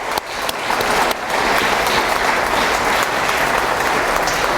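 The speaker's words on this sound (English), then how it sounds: "Give yourselves a round of applause" Sustained, loud applause from a crowd of parents and students at the 2015 Aspen Valley Middle School continuation ceremony. It swells quickly after a brief dip and fills the whole stretch with dense, even clapping.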